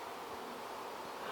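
Honey bees swarm around a hive in a dense, steady buzz, faint overall but continuous, with no voices over it.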